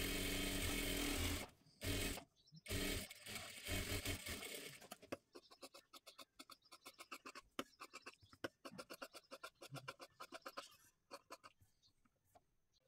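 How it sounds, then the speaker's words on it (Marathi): A sewing machine stitches a blouse, starting with a loud continuous whir and then breaking into quicker, stop-start runs of rapid mechanical clatter. "हे मी पूर्ण शिलाई करून घेतलं"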